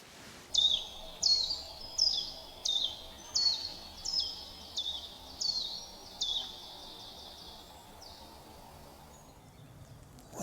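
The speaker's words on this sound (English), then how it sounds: "I can hear like 3 different bird noises now" Birds sing outdoors, with a bright, high chirp repeated about ten times in a steady rhythm that slowly fades, over a constant soft background hiss.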